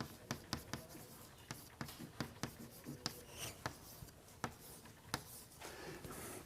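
An economics equation being written by hand, pen scratching and tapping in short strokes with a steady rhythm, quiet and close, with no talk over it.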